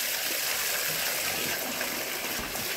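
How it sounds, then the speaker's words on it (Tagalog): Water gushing out of an opened duck drinking trough in a duck pen, a steady loud rush of draining water throughout. "i-open lang po niyan mga lods yung ipainuminan para matapon yung tubig."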